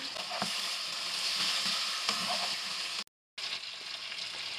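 Constant hiss and crackle of chicken frying in a pan for Shinwari chicken karahi, close and steady, with a few light scrapes and a brief cut to silence.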